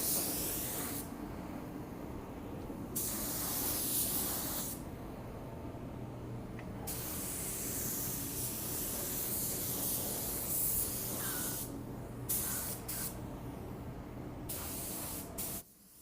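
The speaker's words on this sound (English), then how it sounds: "I'm spraying a little bit quicker and a little bit closer to the panel" Spray gun laying a final clear coat onto a car body panel in a garage, a steady loud hiss in long bursts of a few seconds each, broken by short pauses between passes.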